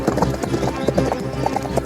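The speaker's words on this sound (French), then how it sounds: "L'un d'eux heurta Lizzie, qui fit un soubresaut et partit au galop." A horse gallops in a fast, even clip-clop rhythm, hoofbeats close and prominent, with a voice speaking over the pounding.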